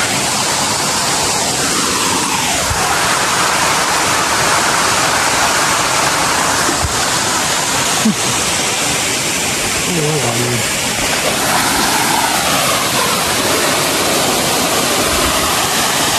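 Rushing water of the Sursuri hidden waterfall near Jamshedpur roars steadily and loud throughout, a broad constant wash with voices faintly heard beneath it.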